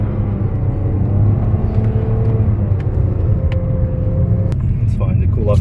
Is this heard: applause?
no